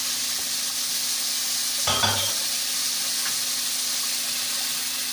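Chicken karahi frying over a high flame with salt, whole red chillies, chaat masala and white pepper, a continuous close sizzle broken by one brief stirring clatter near the middle.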